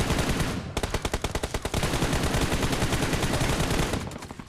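Loud automatic gunfire rattles in a battle royale video game: a brief pause, then rapid sustained bursts of close shots in quick rhythm, briefly easing before continuing.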